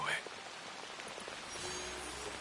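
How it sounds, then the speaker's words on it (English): Rain falls in the game Assassin's Creed Shadows as a soft, steady hiss of drops spread evenly across the moment, faint and continuous with no other distinct sounds. "And now it's raining."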